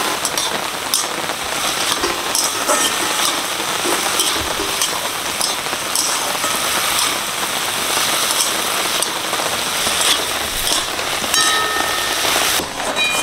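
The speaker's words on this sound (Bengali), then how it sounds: "ওলের ডাঁটা ভাজা ভাজা হয়েছে" Yam stalks sizzle and crackle in hot oil in a pan, seasoned with five-spice, turmeric and cumin, giving a loud, steady hiss with dense popping throughout and no speech.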